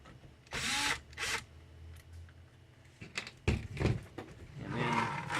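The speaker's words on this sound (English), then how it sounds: "There are 4 screws that we will need to remove to get the hard drive out" Power screwdriver driving out hard drive screws on a Dell Inspiron One 19 all-in-one computer, two short whirring bursts followed by a few clicks and a third longer whir, close and fairly quiet.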